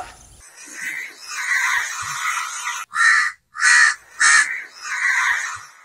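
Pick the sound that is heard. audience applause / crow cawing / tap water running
crow cawing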